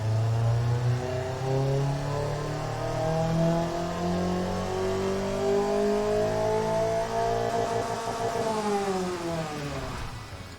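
A zippy 4-cylinder engine in the Automation car tycoon game revs steadily, its pitch climbing in smooth harmonic sweeps before dropping near the end, loud and continuous with no talking.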